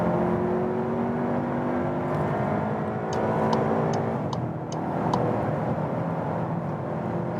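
A Volkswagen Passat Alltrack accelerates on the German Autobahn, heard as a steady, continuous drone of engine and road noise from inside the car, with faint clicking ticks partway through.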